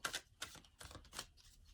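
Oracle cards are shuffled in four quick, crisp riffling bursts of papery flutter, close by and fairly soft, each lasting a fraction of a second.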